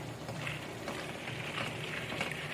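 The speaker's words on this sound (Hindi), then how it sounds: "बस अब इसकी भुनाई करेंगे" Chicken masala dalia roasting in oil in a pan, a soft, steady sizzle and crackle, faint and close, with no talking.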